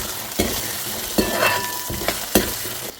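Small onions fry with crushed ginger in hot oil, a loud continuous sizzle broken by several sharp scraping stirs of a spatula against the pan, close and with no voices.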